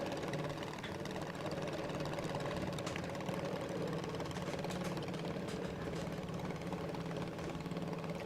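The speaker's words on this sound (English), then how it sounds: "So Cody Sedmak on track in the B Junior Dragster." A B-class junior dragster on a drag strip produces a steady, distant engine drone that holds at an even level throughout, with no clear revving and no voices.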